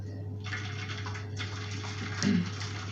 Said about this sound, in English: in there I am going to put in some boiled water